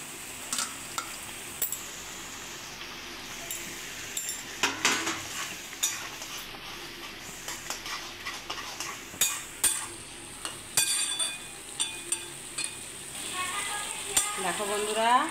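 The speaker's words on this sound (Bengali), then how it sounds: "এবার আমি চিংড়ি মাছটা দিয়ে দেবো।" Prawns sizzle as they fry in a spiced masala, with a steady hiss broken by the repeated scrape and clink of a spoon stirring in the pan, close and clear with no talking.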